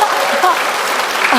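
Church congregation applauding together in a dense, sustained burst, with a person talking over the clapping.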